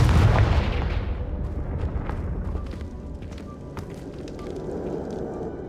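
A Confringo blasting curse detonating in the video game Hogwarts Legacy, a loud booming burst followed by a rumbling, crackling decay that fades over several seconds with scattered sharp snaps.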